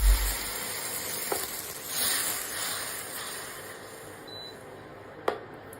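Water hits hot oil holding asafoetida and red chili powder, bursting into a close, steady sizzle that hisses on and fades slightly, with a spoon knock near the start and a sharp clink toward the end.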